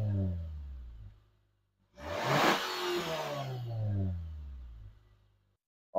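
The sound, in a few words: car exhaust engine revving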